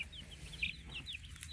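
Hens clucking in a small backyard flock, short chirpy calls scattered over a low steady background hum, moderately faint.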